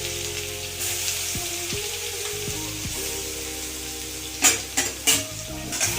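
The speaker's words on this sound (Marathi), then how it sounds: "त्यामध्ये मी थोडंसं जिरं आणि मोहरी टाकणार आहे तडक्यासाठी" Cumin and mustard seeds crackle and sizzle in hot oil for a tadka while making aloo paratha, with a steady frying hiss. A few sharp metal clinks from a spoon against the pan come near the end.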